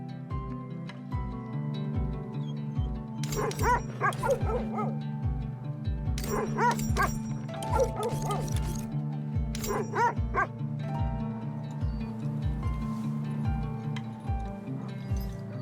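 Sled dogs bark and yip in bursts at feeding time in The Red Lantern, sharp yelps over a steady rhythmic background pulse, loud and close, with excited clusters returning every few seconds.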